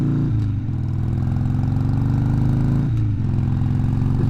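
A Harley Davidson motorcycle engine drones loud and close while riding at about 55 to 60 mph in fifth gear, with a steady low rumble that dips briefly in a couple of places.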